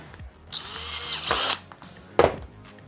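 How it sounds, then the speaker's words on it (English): A power drill with a 3mm bit whirs in two short bursts, the second briefly biting into material, with quiet pauses and faint handling noise in between. "I'm just going to test my drill bit."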